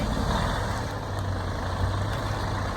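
A semi truck's heavy diesel engine rumbles steadily at a beach house construction site as the truck maneuvers, giving a low, continuous drone close by, with no voices heard over it.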